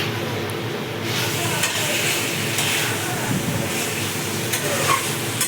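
Spice masala sizzles steadily in a pan while being stirred, giving a continuous close hiss broken by occasional scrapes of the spoon against the metal.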